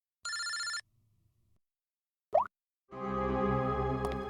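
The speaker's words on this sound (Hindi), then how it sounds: "इनका फोन मत उठा तुम।" A telephone rings in a Hindi crime drama scene with two loud, clear rings separated by a silent pause and a short swish, and the second ring is still sounding when the sound cuts off.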